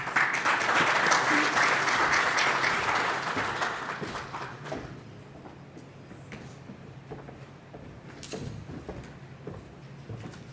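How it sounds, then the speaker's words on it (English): Audience applause welcoming a speaker at a pension supervisors conference, loud and dense for about four seconds, then thinning to scattered claps and room noise. "let's clap as he comes"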